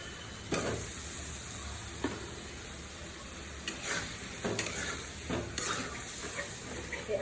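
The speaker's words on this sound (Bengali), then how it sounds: "এখন আমড়াগুলো দিয়ে ভালো করে কষিয়ে নেব" Hog plums (amra) sautéed in a frying pan for an egg and amra korma, giving a steady soft sizzle with a few sharp scrapes and clinks of a spatula, fairly quiet and without talk.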